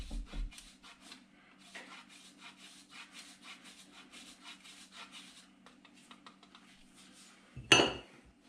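A spoon stirs a potato au gratin mixture with parmesan in a dish, making a faint, rhythmic scraping and rubbing that repeats steadily before one sharper, louder clank near the end.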